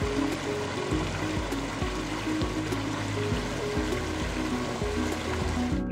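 Continuous flowing, trickling water from a backyard pond water feature, steady and close, with a low rhythmic pulsing underneath.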